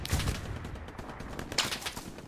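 Gunfire in the World War II video game Hell Let Loose, several sharp cracking shots scattered over a couple of seconds with a busy battlefield background, no talking.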